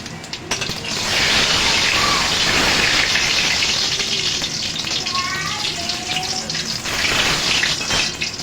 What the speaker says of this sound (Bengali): তেলটা গরম হয়ে গেছে, কটা জিরে ফোড়ন দিয়ে দেবো।